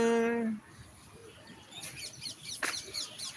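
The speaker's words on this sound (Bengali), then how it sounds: "আকাশ দিয়ে পাখি উড়ে যাচ্ছে" A tone-like voice at first, then several short bird chirps and calls in the background, moderately distant, scattered over the rest.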